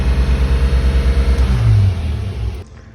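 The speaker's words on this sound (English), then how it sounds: "Revs through the roof. Why did we get revs through the roof?" A car engine revving high right after its first start on a Holley Sniper EFI fuel injection system, a loud close idle surging to a sustained high rev, then dropping off sharply near the end.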